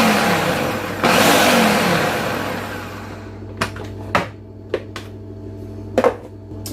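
Food processor pulsing flour and salt, a loud motor whir for about three seconds that winds down, followed by several short sharp clicks and taps.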